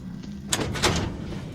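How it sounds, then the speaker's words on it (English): An office door slides shut in the horror video game FNAF Soulless Look demo, a couple of quick bursts of mechanical noise over a steady low hum. "Let me see, can I shut the doors?"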